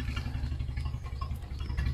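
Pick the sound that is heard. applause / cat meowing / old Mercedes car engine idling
old Mercedes car engine idling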